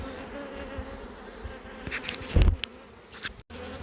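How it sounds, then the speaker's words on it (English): Bees buzz around a relocated beehive at a carport in Lismore, a steady close swarm drone with a brief louder thump and rustle partway through; no talk. "we should start getting bees wandering into the hive now"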